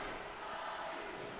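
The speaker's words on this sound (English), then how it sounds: "you can hear the crowd here in Monroe, Georgia, chanting Ali" A crowd in an arena in Monroe, Georgia, chanting Ali, heard as a steady, fairly faint wash of massed voices throughout, with no distinct individual words.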